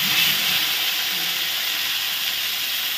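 A paste of green chili, cumin and poppy seed sizzles in hot ghee with a steady, bright hiss that stays close and even throughout, and no one speaks.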